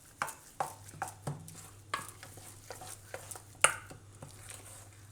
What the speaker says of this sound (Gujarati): મિક્સ કરી લેવું.